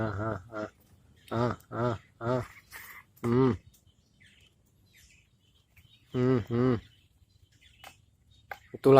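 Caged birds squabble in loud, harsh bursts of calls, several in a row, then a pause, then more sharp outbursts close by.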